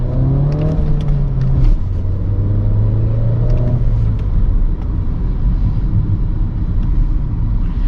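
A Renault Megane IV RS accelerating hard with kickdown in comfort mode: a loud, close engine roar climbs in pitch, drops briefly at a gear change, then pulls and rises again under a heavy rumble.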